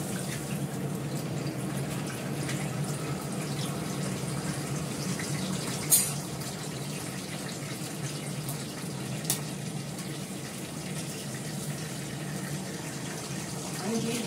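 Eggs washed under a running tap, a steady broadband rush of flowing water throughout with a couple of brief clinks, no talking over it.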